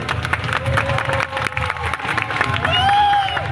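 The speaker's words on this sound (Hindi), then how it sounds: "गोटे बहुत जोर से ताली और हुलोली दे" A crowd claps and cheers at a public gathering, with steady scattered clapping, some shouts rising near the end and ululation-like high cries mixed in, moderately loud.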